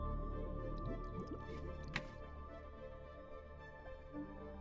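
Moving underwater in a retro-style video game, a muffled murky wash with soft squishy drips and gurgles and one brief splash-like burst midway, fairly quiet with no talking.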